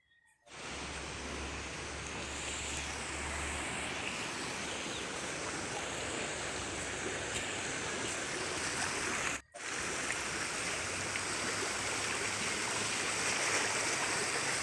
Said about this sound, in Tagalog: Kusog na kayong baha guys oh.